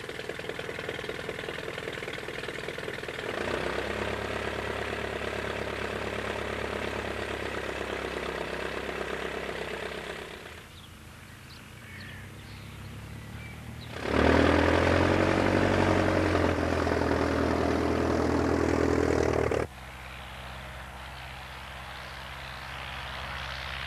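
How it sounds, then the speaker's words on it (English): An early triplane's propeller engine cranks over and settles into a steady, loud droning run, with the pitch shifting as it idles and then surges louder before easing back down. "Roll set. Set. Contact."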